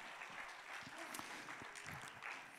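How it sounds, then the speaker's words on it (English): A church congregation gives a round of applause: a soft, dense wash of many hands clapping, faint and distant, steady for the whole stretch with no talking. "Give a round of applause"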